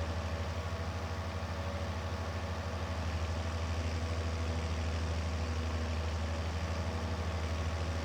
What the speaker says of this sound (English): Tractor could do with a good service.